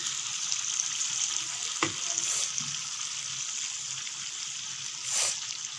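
Beef frying in a pot for biryani gives off a steady, bright sizzle throughout, with a couple of louder stirring scrapes and bursts near the start and toward the end.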